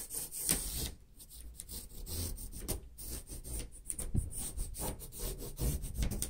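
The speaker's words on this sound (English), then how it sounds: "first you're going to trim out your cardboard for your backing" Large Dollar Tree cardboard sheet being trimmed for a wreath backing, a close, continuous rough rubbing and scraping cut with uneven strokes and no speech.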